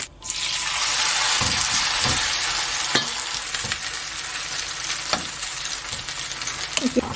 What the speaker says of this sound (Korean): 약간 기름이 이렇게 자글자글 가쪽으로 끓는 게 있어야지 맛있게 잘 구워집니다